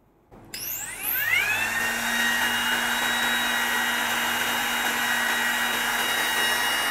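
A small DongCheng DCMP6 cordless hair trimmer whirs to life after a click and keeps running with a steady high-pitched motor whine, close and fairly loud.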